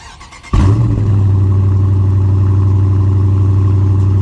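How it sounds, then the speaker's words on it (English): A 2020 Dodge Challenger R/T starts with a sudden loud roar, then settles into a deep, steady idle from its exhaust, close and without any talk. "let's hear that exhaust note"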